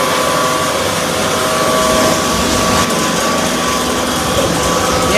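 A mixer churns charcoal powder and tapioca for coconut-shell briquettes, giving a loud, steady mechanical drone with a constant hum and no pauses.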